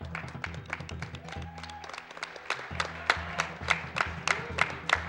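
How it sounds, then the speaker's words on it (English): At the AGDQ 2017 speedrun marathon, scattered audience claps ring out individually and grow stronger and more rhythmic, over a low steady hum and tones in the background. "Let's give him a round of applause as he gets started"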